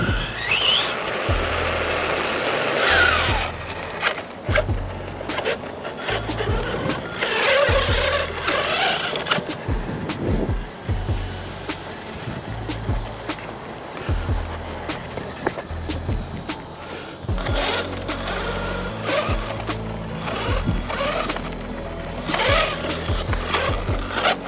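An Arrma Kraton 6S EXB RC car on Pro-Line Trencher 3.8 belted tires drives and bashes about, its electric motor whining and surging in repeated bursts, with tire scrabbles and skids in between. The sound is close, loud and continuous.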